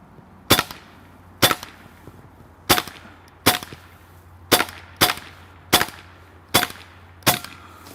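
Hatsan Bullpup PCP .22 air rifle firing at a canvas target outdoors: nine sharp, snappy shots spaced roughly a second apart, each a crisp crack with a short tail, over a faint steady hum.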